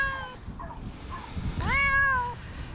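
A cat being rescued from a tree gives a few soft, short mews, followed by a louder, rising and falling meow near the end, with faint rustling in the background.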